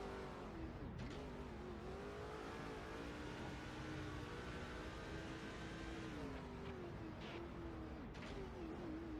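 Race car engine from the NASCAR 08 video game, Busch Series race at Boulder Raceway Park, droning steadily and loudly at high revs with the pitch rising and dipping through gear changes, near and continuous throughout.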